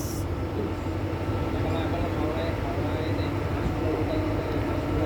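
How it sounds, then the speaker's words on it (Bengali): An express train hauled by a WAP4 electric locomotive, the Howrah–Bhubaneswar Jan Shatabdi, passes close beside a halted local train near Panskura: a loud, continuous rumble and wheel roar filling the whole stretch. "WAP4 লোকোমোটিভ আছে। এক্সপ্রেস দেখো"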